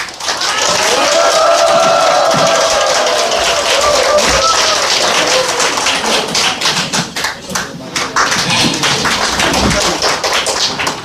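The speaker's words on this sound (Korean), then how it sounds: "힘찬 박수로 환영해 주시기 바랍니다" A crowd at an outdoor Korean political rally claps hard to welcome the party leader and a district mayoral candidate, sustained loud applause with crisp individual claps and a faint voice beneath.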